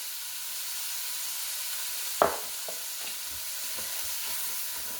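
Ground beef for a thick chili browns in a pan with a steady close sizzle, while a spoon stirs it with scraping and a sharp clack against the pan.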